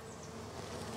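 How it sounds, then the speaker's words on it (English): A dense, steady buzzing of many honey bees in a crowded hive box, soft but continuous, with no voices. "this box has got a lot of bees in it."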